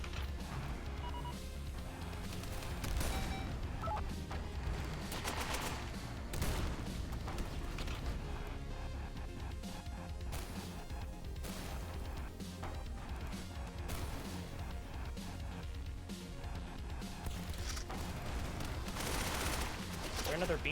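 Turret gunfire in the video game Gearbits during a raider expedition, a dense, continuous barrage of shots, crashes and mechanical clatter that stays loud and busy throughout, with sharper bursts standing out.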